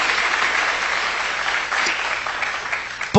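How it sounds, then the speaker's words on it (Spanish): A church congregation breaks into strong applause for the Lord, a dense continuous wash of clapping that holds steady at close range. "Dale un fuerte aplauso al Señor por su amor y su misericordia"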